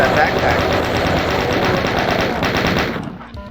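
Rapid, continuous gunfire in the video game Doom, dense and loud under a voice talking over it, fading out at the end.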